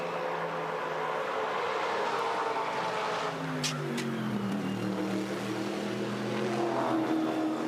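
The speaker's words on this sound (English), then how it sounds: "Still hear that car scraping as it goes up through Griffin's Bend." Race car at the Bathurst 12 Hour endurance race scraping as it climbs through Griffin's Bend, heard as a steady engine roar with shifting tones and a brief metallic grind midway, loud and continuous with no talk.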